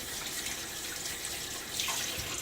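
A synthetic shaving brush rinsed under a running tap, a continuous close hiss and splash of flowing water with a brief heavier gurgle near the end.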